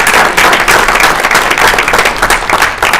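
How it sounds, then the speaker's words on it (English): Audience applause at a school board meeting, a loud, close burst of many hands clapping with distinct individual claps standing out in an uneven, sustained patter. "Another round of applause, guys."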